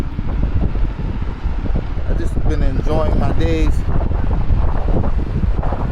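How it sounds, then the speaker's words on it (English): Heavy wind buffeting the microphone, a constant low roar that runs the whole time, with a person speaking briefly partway through. "Oh, it's kind of windy out"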